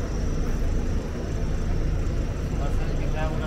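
A tour bus on an island trip drives along with a steady low engine rumble and road noise, continuous and close from inside the cabin.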